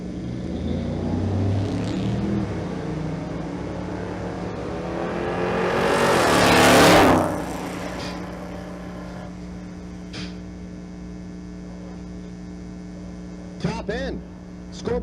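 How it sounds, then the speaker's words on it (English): A V6 all-wheel-drive Dodge Challenger drag races at Twin Cities Raceway in Monroe, its engine swelling to a loud roar as it passes, then fading. A steady electrical hum runs underneath, with a few short sharp noises near the end. "The V6 all-wheel drive Challenger in the right lane is Stevie Ellingson."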